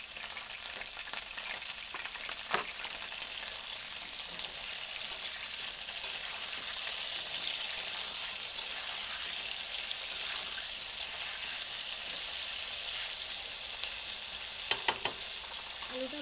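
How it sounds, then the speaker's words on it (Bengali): Potatoes frying in a pan with a little salt, giving a steady, close sizzle that runs throughout with a few brief stirring clatters and no talking. "আলুটাকে ভালো করে ভেজে নিই"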